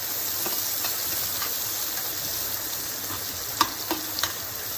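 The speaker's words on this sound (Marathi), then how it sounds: "आता आपल्याला हा कांदा चांगला परतून घ्यायचा आहे" Chopped onion frying in hot oil after mustard seeds and cumin, cooked for a Kolhapuri misal: a steady, moderately loud sizzle runs throughout, with a few brief sharp spatters or stirring clinks near the end.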